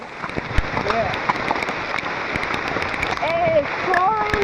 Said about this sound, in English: it's pouring rain, isn't it?